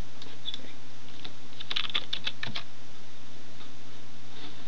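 Clicky keystrokes on a computer keyboard, a short flurry of quick taps clustered near the middle against a steady electrical hum, close by and fairly soft.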